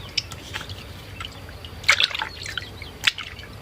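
Fish being rinsed in water while making Thai sour fermented fish, heard as close, intermittent splashes and trickling drips that come in short bursts over a quiet background.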